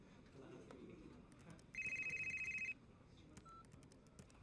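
A telephone rings in a steady pulsing burst lasting about a second, with a fainter electronic chirp after it, in an indoor scene from a Hindi-dubbed South Indian film.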